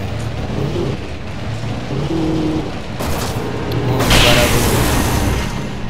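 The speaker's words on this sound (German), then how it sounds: "Ich habe noch nie hier in dem Spiel ein Auto explodieren sehen." A car explodes in the video game Alan Wake with a deep boom near the middle, followed by a louder burst of crackling, rumbling debris over steady game ambience.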